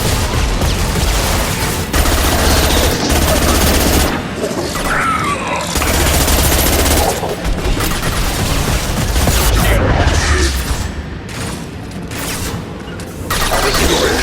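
Video game Mass Effect 2 gunfire comes in loud repeated bursts and booms across the stretch, with brief pauses between volleys.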